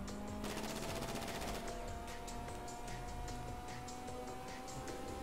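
SMG gunfire in a video game, a steady rapid automatic burst running the full length with a dense crackling rattle over a continuous low engine-like background.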